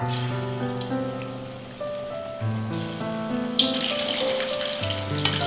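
Batter-coated pork ribs deep-fry in a pot of hot oil, a steady hissing crackle that swells partway through, heard beneath prominent background music.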